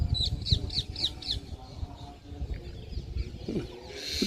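A parrot squabbling with a pair of myna birds outdoors: a quick run of five sharp, repeated chirping calls, followed by rougher squawks and scattered chatter, with a burst of shrill, noisy screeching near the end.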